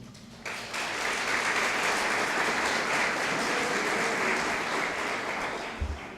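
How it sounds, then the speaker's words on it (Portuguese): A church congregation claps hands in praise, a dense, steady burst of applause that starts abruptly after a brief quiet moment and holds loud and even throughout. "Vamos louvar o Senhor, por favor, com as palmas."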